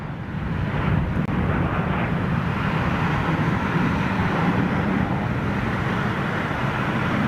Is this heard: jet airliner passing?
yes